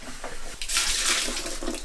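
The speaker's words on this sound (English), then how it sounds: "And you just want to fill them up with a little bit of water, just like so." Water pours into a bucket in a steady, close splashing rush that swells midway and then tapers off, with no talking over it.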